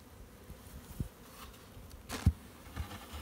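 Honeybees swarm around an opened hive, giving a faint, steady buzz close by, with a few soft knocks and thumps from handling the hive boxes.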